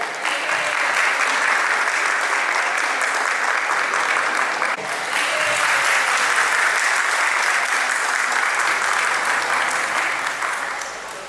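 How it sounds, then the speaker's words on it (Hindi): An audience claps loudly and steadily at a school Independence Day celebration. The applause dips briefly midway, then continues before easing off toward the end. "इनके लिए आपकी तालियों की गड़गड़ाहट रुकनी नहीं चाहिए।"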